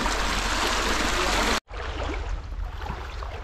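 Creek water flows steadily with a broadband rushing and gurgling wash, briefly cut off for an instant before resuming a little softer and continuing to run.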